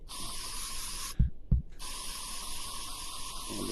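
Spray paint tool in Oculus Medium VR sculpting, used loosely on a moose head model: a steady, close airy hiss that stops briefly midway, with a couple of soft low thumps in the gap, then resumes.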